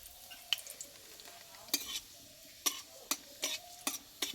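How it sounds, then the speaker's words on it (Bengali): Dry red chilli and whole cumin seeds sizzle in hot mustard oil, a soft steady hiss broken by sharp crackles and pops at irregular intervals, close by with no talk. "এবার জিরে লঙ্কাটা আমি একটু ভেজে নেব"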